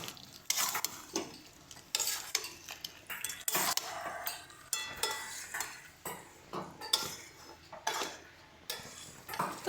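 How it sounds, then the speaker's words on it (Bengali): Tomato paste is stirred into chicken curry in a pan with a rhythmic run of close, scraping spoon strokes and light clinks over a faint sizzle. "টমেটোর পেস্টটা দিয়ে ভালো করে এটাকে মিশিয়ে নেব।"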